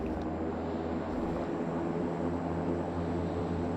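A T-6A Texan II turboprop taxis in the Prepar3D flight simulator, its engine a steady, continuous drone with broadband rushing noise and no pauses throughout.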